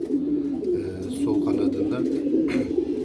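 A pigeon with a wing injury coos softly and repeatedly nearby while a person talks over it.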